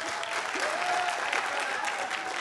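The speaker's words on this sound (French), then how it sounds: "Est-ce qu'on peut avoir des applaudissements ?" Sustained applause fills the room as a school audience of students claps for their history-geography teacher, a dense, even wash of many hands throughout without any voices standing out.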